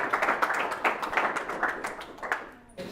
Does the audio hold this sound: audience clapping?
yes